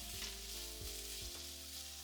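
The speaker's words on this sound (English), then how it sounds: "Start frying it, and add the carrot. Stir fry them to brown and bring out the sweetness." Onion and carrot stir-frying in a hot pan, a constant close sizzle with faint scraping stirs, no voices.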